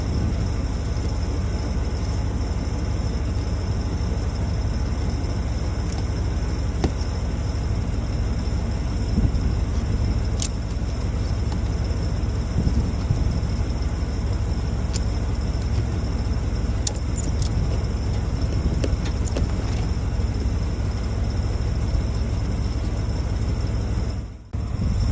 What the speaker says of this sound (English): I'm going to hook the other end of that chain to the Blazer and see if I can pull it on the trailer a little farther